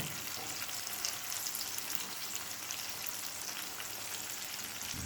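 Tomato fries quietly in a pan with a soft, even sizzle and faint scraping of stirring, a low, rain-like hiss throughout.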